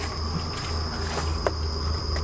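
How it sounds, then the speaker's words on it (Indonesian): Crickets chirp steadily outdoors at night near an abandoned mess building by Bukit Suligi lake, a continuous, loud, high trilling with faint rustles and one brief tap partway through. "jangkrik."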